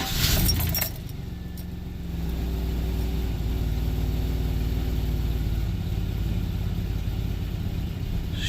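1996 GMC Sierra pickup engine idling with a misfire and sputtering, a steady low rumble with a slightly uneven pulse after a brief key jangle at the start, heard close and without talk.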